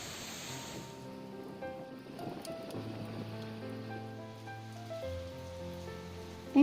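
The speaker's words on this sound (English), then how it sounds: "just as expected, it started raining." Rain falls on a cloudy morning in Kerala, a faint, steady patter beneath soft sustained music. A brief louder knock comes at the very end.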